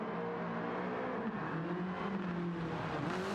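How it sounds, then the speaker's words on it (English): A race car engine in Gran Turismo 7 drones steadily at high revs, its pitch dipping and climbing as gears shift, heard alone and fairly loud throughout. "Hear me shifting?"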